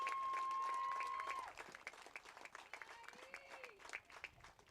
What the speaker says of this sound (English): Please give Erica a round of applause